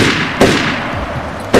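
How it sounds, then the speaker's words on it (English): Gunshots in Overclocked: two sharp shots about a second apart, fairly close, over a steady background hum. "Somebody's shooting. Shots."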